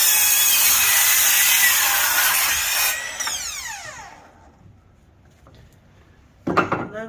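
A power saw cuts through lumber while building loft stairs, a loud whining cut that winds down as the blade spins to a stop, followed by quiet and a short clatter at the end.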